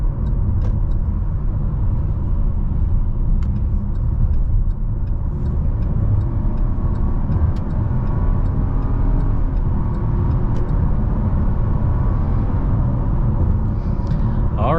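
A 2023 Buick Encore GX with a 1.3-litre three-cylinder engine accelerates on a highway, giving a steady, loud low rumble mixed with road and cabin noise, heard from inside without talk.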